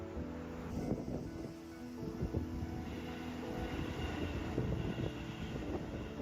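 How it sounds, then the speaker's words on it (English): A train passes, a steady low rumble of wheels and rail with rattling clanks rising and falling, heard alone without speech. "It's Thomas the Tank Engine and friends on a train"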